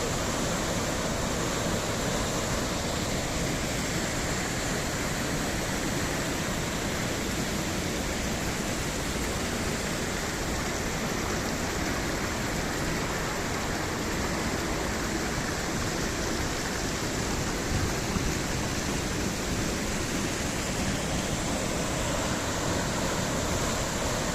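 Alaçam waterfall pours in a steady, dense roar of rushing water, loud and continuous throughout with no voices.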